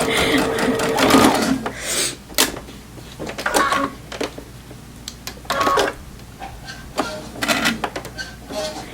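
A sewing machine chain-piecing quilt pieces, running in several short rhythmic bursts separated by brief pauses, close and clear, with someone talking quietly in between.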